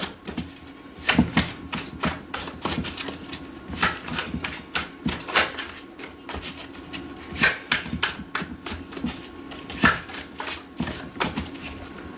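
A deck of tarot cards being shuffled by hand in quick, uneven bursts of riffling and tapping, fairly close and with no talking.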